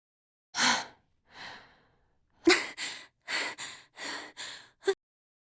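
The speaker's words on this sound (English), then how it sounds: "we don't need to listen to the panting through the whole" A character in the Zero Escape: The Nonary Games video game pants and gasps, a string of close, separate heavy breaths in an uneven rhythm, roughly eight bursts with short silent gaps between them.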